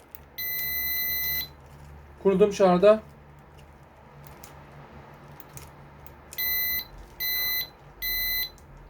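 A home alarm system beeps in short repeated bursts as it is armed, first a single long tone, then three in a row, with a person briefly speaking between.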